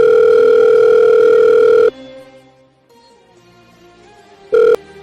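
A telephone dial tone blares as a steady loud tone for about two seconds, cuts to a quiet room, then returns briefly near the end.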